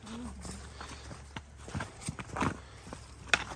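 Shod horses walk on a road during an autumn ride, with irregular clip-clop hoofbeats at close range, fairly quiet, mixed with brief voices and soft outdoor noise.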